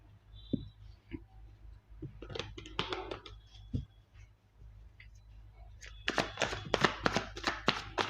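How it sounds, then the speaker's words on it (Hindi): Tarot cards shuffled by hand: soft papery riffles and quick clicking taps in irregular bursts, growing denser and louder toward the end, close and without speech. "जब तक मैं कार्ड शफल करूं"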